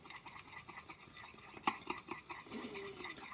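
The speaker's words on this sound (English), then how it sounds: "And I'm going to stir that in." Faint scraping and clinking of a utensil stirring essential oils into a thick homemade deodorant paste made from kitchen cupboard ingredients, in quick uneven strokes with one sharper tap.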